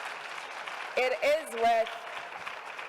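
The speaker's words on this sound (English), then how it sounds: "I think we should give this a round of applause" An audience at a business forum in Botswana claps, a continuous patter running under a brief stretch of someone talking.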